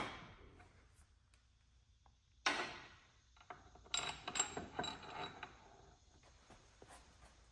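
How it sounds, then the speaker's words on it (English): Engine case bolts are set from underneath while the aluminum case of a 1963 Corvair engine is shifted about, producing quiet metallic clinks, scrapes and a few sharper knocks close by in an otherwise still workshop. "Now I've got to set these case bolts in from underneath, and I'll have to move the case around a little bit to accomplish that"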